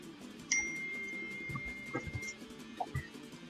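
A phone notification chime rings out suddenly, a bright tone that hangs and fades over a couple of seconds above a low murmur of background room noise, followed by a few soft knocks.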